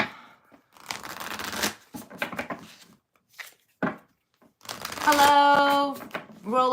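Tarot cards are handled and shuffled at a reading, giving soft papery riffles and rustles in short bursts between pauses, with a voice speaking at times and a brief musical tone near the end.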